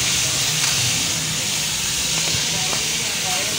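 White chickpeas boil in a pot, giving off a loud, steady hiss of steam that holds unbroken for several seconds, with faint faster bubbling beneath it.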